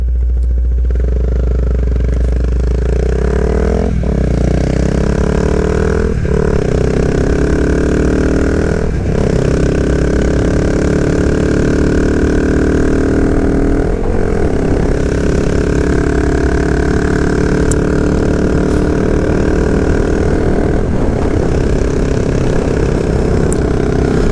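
Honda Grom with a swapped-in CBR engine and a loud Yoshimura exhaust, running steadily with a throaty drone and several revving surges across the whole stretch, close and continuous with no talk.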